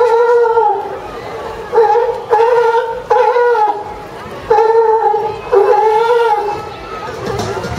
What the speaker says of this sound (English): Males like Osborne will vocalize to announce and defend their territory